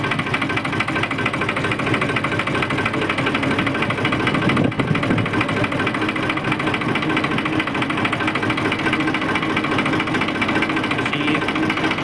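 Tractor engine running under gentle throttle as it pulls away in first gear, a steady dense mechanical clatter and hum holding at an even level throughout, close and continuous, with no talking.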